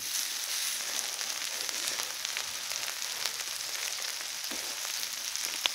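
Samgyeopsal pork belly sizzles on a stone griddle set over an outdoor wood fire, giving a close, continuous hiss of frying fat with occasional small pops and no talk.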